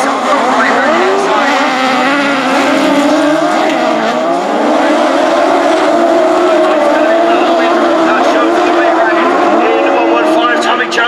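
Class 8 race cars leave the start line at Magor Raceway in a loud, sustained roar of several engines revving together, pitch rising and shifting as they pull away, with a commentator talking over the noise throughout.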